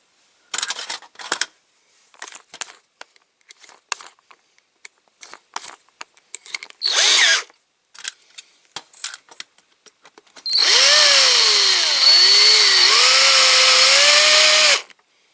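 A power drill with a bigger bit bores into a Corgi Major Toys Chipperfields crane truck, with short bursts of whirring and clatter followed by a long, loud continuous drilling run whose pitch wavers under load.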